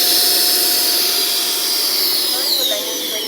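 FMS 64mm F-16 Thunderbird RC jet with afterburners, a loud, sustained high-pitched electric ducted-fan whine and rushing roar close by, pitch shifting slightly as it passes.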